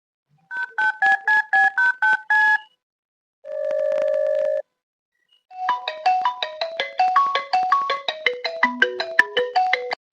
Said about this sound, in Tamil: போன் போட்டு கேட்போம்